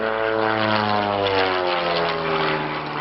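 An Extra 230 aerobatic monoplane flies at a 1986 airshow at Old Warden, England, its propeller engine giving a steady, loud, harmonic drone that holds throughout with no voices.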